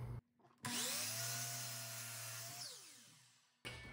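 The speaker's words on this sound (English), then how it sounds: "if you're ripping a board on the miter saw, hold it firm, do not move your hand, and just cut nice and slow" Miter saw ripping a board lengthwise, a loud steady whining cut of about three seconds with a spin-up and wind-down, set off by a short motor burst just before it, no talk.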